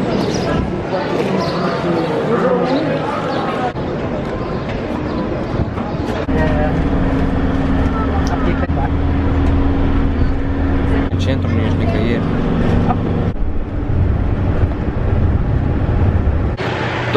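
Ride inside a minibus heading to a hotel, a steady engine rumble and road noise with bumps and rattles, while people talk over it throughout.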